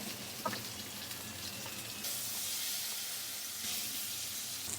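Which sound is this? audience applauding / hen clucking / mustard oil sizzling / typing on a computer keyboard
mustard oil sizzling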